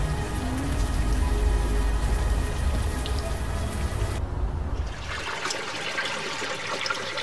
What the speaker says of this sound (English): At least the rain is washing away most of the smell.